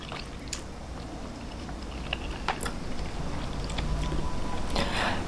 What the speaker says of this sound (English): So we'll take a taste of the ramen first